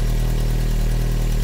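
A 2000 Volkswagen Golf Cabriolet engine idles steadily with a low, constant rumble, faintly uneven from a slight misfire, with no voices.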